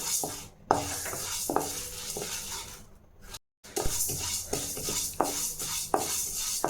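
Toor dal dry-roasting in a pan, stirred with a utensil that scrapes and rubs the metal in repeated close strokes, with sharp clinks between sweeps and one brief silent gap.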